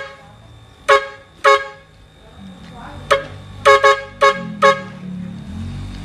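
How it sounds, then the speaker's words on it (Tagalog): A loud truck-style air horn blasts repeatedly in short honks, two spaced apart, then a quick cluster of four, over a low idling engine. "Lakas ng busina sir ngayon."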